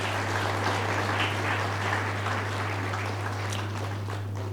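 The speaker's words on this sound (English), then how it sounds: "A round of applause" Audience at a Kenya Revenue Authority taxpayers' day ceremony applauding, a soft, even patter of many hands heard from a distance over a steady low electrical hum.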